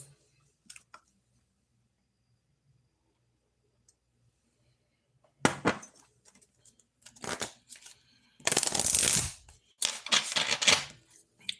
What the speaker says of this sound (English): So I am shuffling the cards.